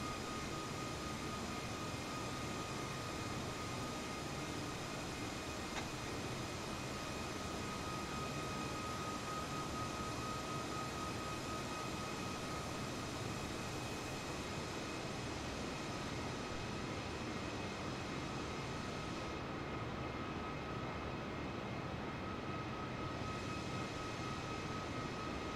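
An Airbus A320's jet engines drone steadily in flight inside Microsoft Flight Simulator 2020, a constant, fairly quiet cabin hum with faint whining tones and no speech.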